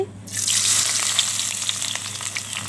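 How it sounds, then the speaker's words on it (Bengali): Chopped onion and green chili hit a hot pan with a sudden loud sizzle that settles into steady, close frying crackle for the rest of the moment. "এখন আমি এটাকে সুন্দর করে ভেজে নেব"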